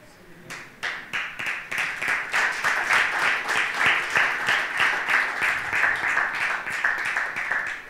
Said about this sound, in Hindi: अच्छा ये तो ताली बाज दी है